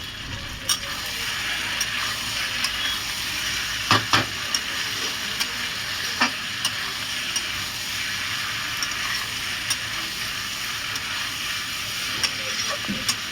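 Country chicken curry with potatoes simmers in a pan under a soft continuous sizzle, with scattered scraping clicks of a spoon stirring it at intervals.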